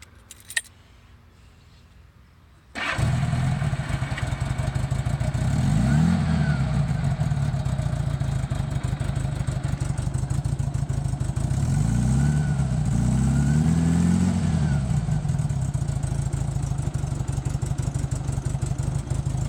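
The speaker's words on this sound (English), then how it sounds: "It's a cold start, though it's a warm day out." A 1979 Honda GL1000 Goldwing motorcycle engine cold-starts after a brief crank, then settles into a loud, steady close-up idle with a couple of slight revs rising and falling.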